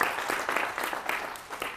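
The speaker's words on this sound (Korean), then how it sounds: "박수 한번 다시 한번 크게 보내주시죠" An audience at a lecture gives a brief burst of clapping, many hands together, fairly close and steady for under two seconds.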